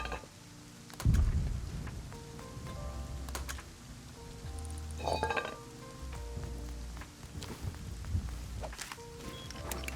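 Rain and thunder in the survival game Rust at night, a steady patter of rain with a low rumbling thunder roll and occasional game footsteps and clicks underneath.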